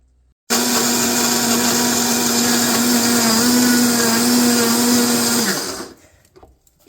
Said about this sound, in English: use my Vitamix to grind meat into flour